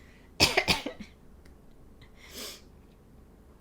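One person coughs in a quick burst of two or three harsh hacks, followed by a smaller cough and a breathy throat sound a moment later, all close and fairly quiet in an indoor room.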